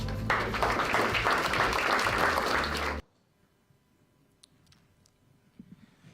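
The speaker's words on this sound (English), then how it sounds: "So give yourself a round of applause." Audience applause at a city technology and innovation event: a burst of loud, dense clapping lasting about three seconds, then cutting off abruptly to near silence with faint scattered sounds.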